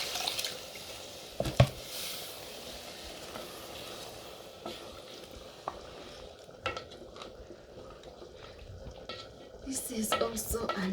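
Water poured into a cooking pot of white rice in a home kitchen, a soft steady splashing and trickling wash running for several seconds alongside clinks and stirring noises, with a sharper knock near the start.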